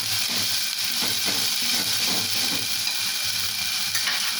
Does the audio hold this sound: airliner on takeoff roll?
no